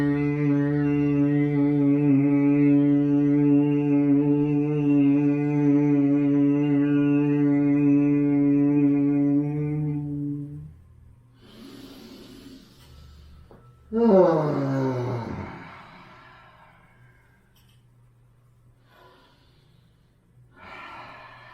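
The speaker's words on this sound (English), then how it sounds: "One Brahmari to clear. Deep breath in." A long, steady, loud Bhramari bee-like hum from a yoga class holds for about ten seconds, then gives way to deep audible breaths, a sharp inhale and a slow fading exhale near the listener.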